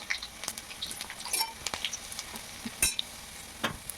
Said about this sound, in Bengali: তো এবার আমি তেলটা গরম হয়ে গেলে এবার আমি রসুন কুচি দিয়ে দেব।